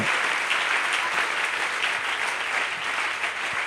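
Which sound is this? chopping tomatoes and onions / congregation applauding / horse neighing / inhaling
congregation applauding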